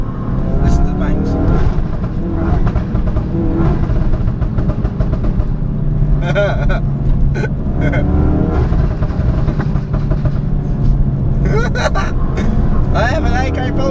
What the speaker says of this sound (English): I'm trying to work out if this has a custom map on it, because listen to the bangs.